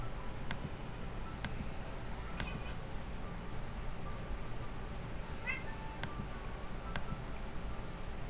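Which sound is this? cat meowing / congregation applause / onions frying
cat meowing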